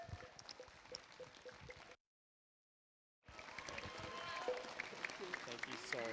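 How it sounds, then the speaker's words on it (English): Audience applause for a dance troupe at the opening ceremony of an international pencak silat championship, a dense crowd clatter that breaks off into a gap of silence, then returns louder and fuller. "So kindly please join me in welcoming Corroboree for Life with a warm round of"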